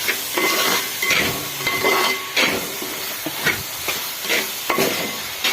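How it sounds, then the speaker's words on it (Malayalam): Ginger being stirred in a hot pan to keep it from sticking, with repeated scraping strokes over a steady frying sizzle, loud and close, no talking. "എന്നിട്ട് നമുക്ക് അടി പിടിക്കാത്ത ഇളക്കിയിട്ട് നന്നായി യോജിപ്പിക്കാം"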